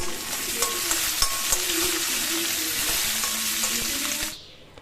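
Onion and garlic sautéing in oil in a pan for a South Indian tamarind curry, a loud continuous sizzle with occasional sharp crackles and stirring scrapes, close up, fading out near the end.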